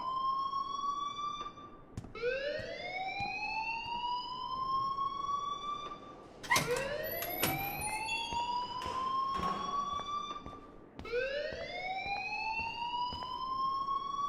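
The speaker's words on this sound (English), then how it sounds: "please turn off that alarm since that's your job" A school fire alarm in the Life Is Strange video game blares in repeated rising electronic whoops, each sweep climbing in pitch, loud and close, with a brief burst of clatter between cycles.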